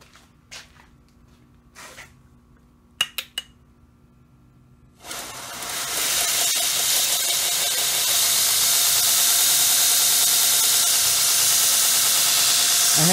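A motor on a machine with a big wheel starts after a few clicks and knocks, then runs as a loud steady hiss and whir that fills the rest, close up with no talk.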